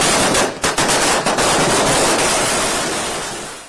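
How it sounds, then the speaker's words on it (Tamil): Firecrackers burst outside a cinema during a fans' procession, a dense, loud, continuous crackling barrage with sharp pops early on that gradually fades out. "தாரை தப்பட்டை முழங்க பட்டாசு வெடித்து"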